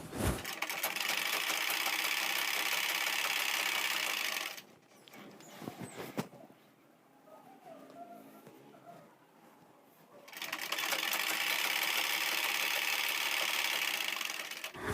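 A sewing machine stitches a kameez in two loud, steady runs of rapid whirring, separated by a quiet pause of handling the fabric.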